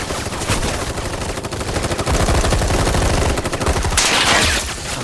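Dense, rapid bursts of automatic gunfire in the video game Final Fantasy VII Rebirth, overlapping into a loud, continuous barrage with sharp cracks, close and chaotic.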